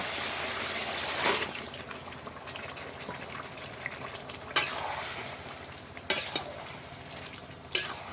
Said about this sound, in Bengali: এবার দিয়ে দেব মাংস।